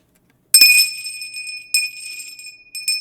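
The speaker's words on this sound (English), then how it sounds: "let's appreciate how crispy that bell sounds on Bashi's new mic." A small bell rings with a bright, sustained metallic tone, struck three times: once sharply after a silent start, then again about a second later, and a quick tap near the end, each ring decaying slowly.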